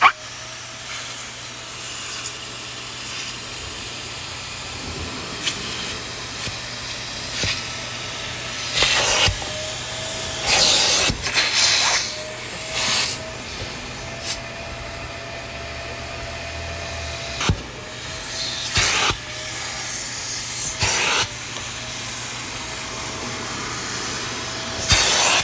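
A vacuum cleaner hums steadily while its small reservoir sprays degreaser in short bursts of hissing spray that start and stop at irregular intervals, fairly close by, cleaning a seat.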